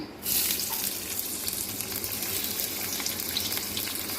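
Chopped onion dropped into hot mustard oil sets off a sudden, steady sizzle and crackle that continues close and even for several seconds.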